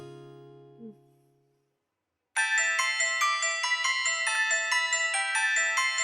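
A mobile phone ringtone starts abruptly after a fading low tone and plays a bright, repeating electronic melody loudly and steadily to the end, with no voices over it.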